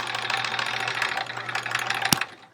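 A sewing machine chain pieces quilt blocks with a rapid, steady mechanical stitching whir that runs close and fairly loud, then stops abruptly with a sharp click near the end.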